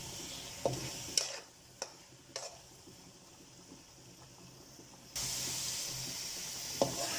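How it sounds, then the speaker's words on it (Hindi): Grated carrots sauté in desi ghee, making a faint sizzle broken by a few sharp spoon clicks and scrapes, then a louder hiss of frying near the end; no one speaks. "5 मिनट तक हम इसे अच्छी तरीके से भूनेंगे।"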